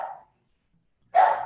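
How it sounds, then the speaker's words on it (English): A pet dog barking while guarding its home indoors, two sharp bark bursts separated by about a second of silence, close and fairly loud. "And as you can tell, that's my dog, Poppy,"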